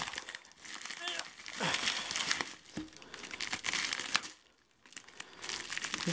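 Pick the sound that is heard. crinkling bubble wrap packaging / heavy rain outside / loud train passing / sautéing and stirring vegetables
crinkling bubble wrap packaging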